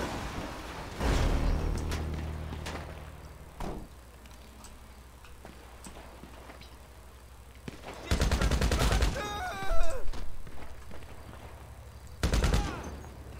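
Video game gunfire with several bursts of rapid automatic shots and single cracks spread through the scene, over a steady low background hum, with faint speech now and then.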